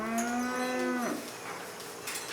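Dairy cows on a Swiss farm moo before milking: one long, close, loud moo, then faint rustling and background sounds.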